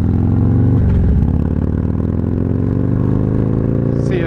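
A Harley motorcycle rumbles loudly and steadily as it rides, with a deep continuous engine drone, a slight dip and shift in pitch around a gear change, and a faint high whine near the end.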